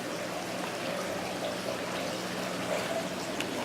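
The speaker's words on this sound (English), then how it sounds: "Water flowing around." Soft, continuous trickle and splash of water flowing inside an indoor boa constrictor enclosure, a faint steady wash with no voices.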